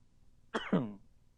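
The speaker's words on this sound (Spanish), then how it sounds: "me ganó la tos" A single short cough, fairly quiet, sounding in two quick bursts against a silent background.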